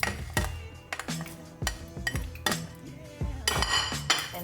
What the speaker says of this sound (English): now we're gonna add all of our other veggies. So our potatoes, our peppers and cilantro,